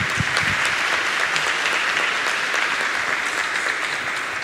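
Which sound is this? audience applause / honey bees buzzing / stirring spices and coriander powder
audience applause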